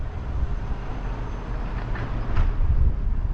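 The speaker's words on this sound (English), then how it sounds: "here is my train" A train rumbles into a station in Cardiff close by, low and steady, growing slightly louder toward the end with a faint squeal of wheels.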